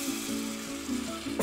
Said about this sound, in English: we're gonna deglaze the pan with a little bit more white wine